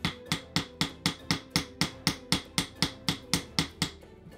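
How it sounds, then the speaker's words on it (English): A toy hammer pounds a soft dinosaur excavation block in about sixteen evenly spaced, close knocks, each a sharp dull thud, steady and rhythmic with no talking. "So you just take your hammer and you pound on it."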